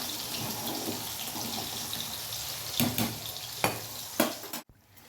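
Fish frying in a pan, a steady close sizzle with a few sharper bursts of spattering and stirring toward the end before it abruptly cuts off.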